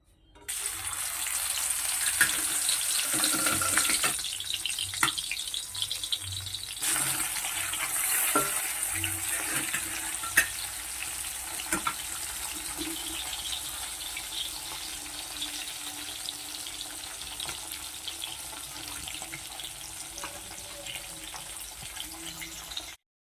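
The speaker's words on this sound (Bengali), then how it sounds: "দেখো মাছগুলো সব ভেজে নিচ্ছি।" Tangra fish fry in hot oil with a steady, close sizzle and crackle that holds for over twenty seconds, with a few louder bursts early on and no talking.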